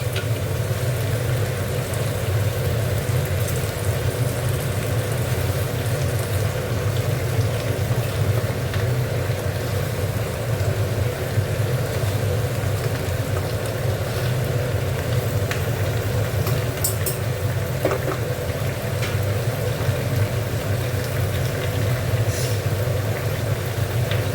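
Ghuso shrimp mixture being stirred as it fries in a pan, giving a steady, loud, unbroken sizzle throughout with a low rumbling hiss underneath and no talking.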